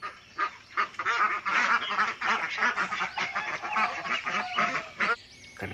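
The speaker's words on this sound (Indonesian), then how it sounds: "Wow, ada bebek." Ducks in the Jurassic World Evolution 2 video game give a quick run of loud, nasal quacks and honks, repeated in a choppy rhythm close up with no talking.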